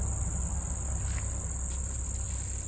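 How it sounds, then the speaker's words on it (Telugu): Crickets or grasshoppers chirp in the evening in an outdoor garden, a steady, continuous high-pitched trill over a low rumble of background noise, with no voices. "అది మిడతలు."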